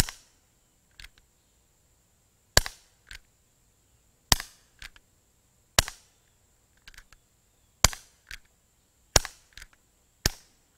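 Colt Peacemaker .177 CO2 BB airgun firing seven sharp, loud pops spaced about 1.5 seconds apart, each followed by a quieter click from the action, in an otherwise quiet setting.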